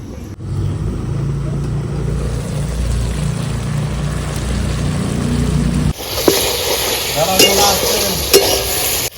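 A pan of kochu loti and prawn curry bubbles and sizzles after a little water goes in, a loud, steady cooking noise that turns brighter and hissier partway through, with faint clinks and no talking.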